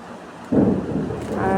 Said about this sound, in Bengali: এই যে বিদ্যুৎ চমকাচ্ছে, মেঘের আওয়াজ শোনা যাচ্ছে, আর আবার বৃষ্টি শুরু হবে।